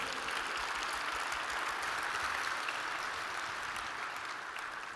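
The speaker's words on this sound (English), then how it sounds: "So let's bring a big applause for the team," Dense, steady applause from a cybersecurity conference audience in Vienna for the organizing team, a continuous wash of clapping at moderate level that fades slightly at the close.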